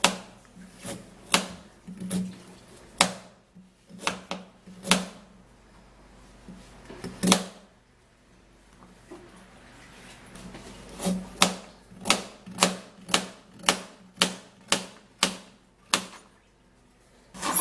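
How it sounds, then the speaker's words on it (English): Carrots being cut with a knife on a board, a steady series of sharp, close chopping taps, scattered at first and then falling into an even, quick rhythm with no talking. "the next thing we're going to do is to cut the carrots."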